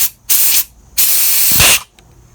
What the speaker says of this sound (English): Okay, with compressed air, let's test it here.